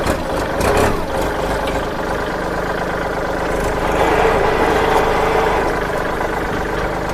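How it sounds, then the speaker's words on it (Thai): A Kubota L3608 four-wheel-drive tractor with a direct-injection diesel engine idles nearby, a steady low rumbling chug with a faint rise in intensity midway. "เครื่องติดง่ายนะครับ"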